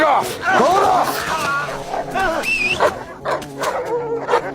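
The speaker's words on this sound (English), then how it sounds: "sent the guard dog charging forward" A guard dog barking, yipping and snarling as it charges and attacks, loud and close, with frantic shouting voices over it.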